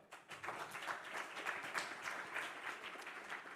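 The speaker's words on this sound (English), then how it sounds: "Please have a round of applause for Jani RUUSKANEN." Conference audience claps steadily for a speaker from Finland taking the stage at a sharing and reuse awards session, a moderately distant, even patter of applause.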